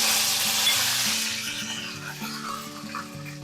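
Curry leaves hit hot oil with mustard seeds already popping, frying into a steady, fairly loud sizzle that spreads across the whole stretch, with faint stirring and a low melodic background tune underneath.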